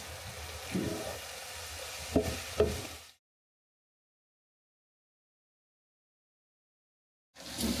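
Beef sizzles in a pan while being stirred, a soft frying crackle with a few scraping clacks of the utensil, then several seconds of silence before the sizzle resumes.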